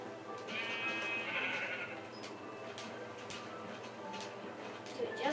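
Minecraft sheep bleat in short, wavering calls over ticking game sounds, with a person talking intermittently underneath.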